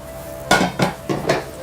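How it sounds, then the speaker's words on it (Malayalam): Metal pots and utensils clatter against a stovetop in a home kitchen, four distinct loud clanks spaced about a quarter-second apart as a vessel is set down and adjusted, with no talking. "ഇനി ഇതേ അടുപ്പിൽ നമ്മൾ മറ്റൊരു പാത്രം വയ്ക്കും."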